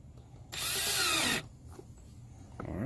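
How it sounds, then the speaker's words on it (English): Power drill driving a screw to fix a snorkel onto a Jeep Cherokee XJ, one loud, steady whirring burst of about a second that winds down, close by, with quiet rustling before and after. "now that we have this screwed to it"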